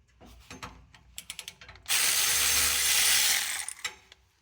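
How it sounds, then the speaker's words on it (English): A ratchet on a 14mm deep socket breaks nuts loose on the exhaust Y pipe of a 2008 Infiniti FX35: a run of sharp, close clicks, then about a second and a half of continuous loud grinding ratchet buzz, then a few trailing clicks. "I'll get a 14mm deep socket with a 5-inch extension, and I'll use that to break these loose"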